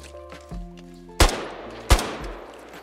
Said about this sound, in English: I'm just testing moving and firing